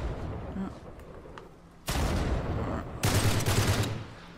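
Gunfire erupts in Uncharted 3: Drake's Deception with two loud, dense bursts, the second carrying a rapid rattling pattern. They follow a quieter stretch where someone talks.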